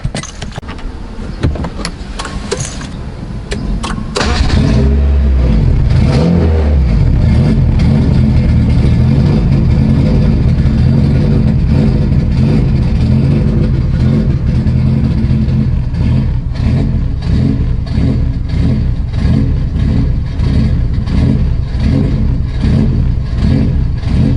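A 1990-93 Honda Accord CB7 engine starting: keys jangle and a short cranking burst, then the motor catches and idles loudly and steadily for about twenty seconds, close to the listener.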